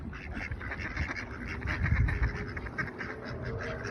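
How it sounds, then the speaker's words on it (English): A duck quacks close by next to a table, repeated raspy calls over steady background noise, with no one talking. "this duck right here, like right there by the table"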